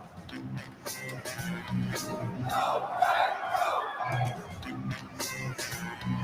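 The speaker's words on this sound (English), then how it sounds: "Listen to this crowd" A big crowd at the NFL Draft first round roars and cheers continuously, swelling and ebbing at a distance, with voices of nearby people speaking over the din.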